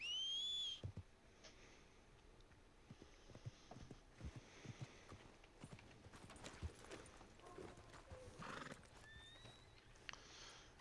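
Scattered hoof clops on hard ground, irregular and fairly close, with a horse whinnying at the start and faint whistles near the end.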